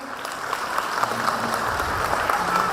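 Sustained, louder clapping from a school annual day crowd, full and continuous, many hands beating together without a break.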